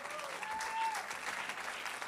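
A church congregation at a baptism celebration claps together in a steady, dense burst of applause, moderately loud and slightly distant, held across the whole moment.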